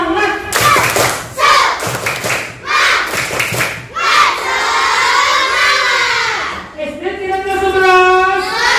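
Children in a classroom perform a rhythmic clapping chant together, loud bursts of claps and shouted voices alternating with sung, drawn-out group vocals.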